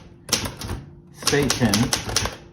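A typewriter with sharp, clustered key strikes and clacks, close and loud, heard beneath someone speaking.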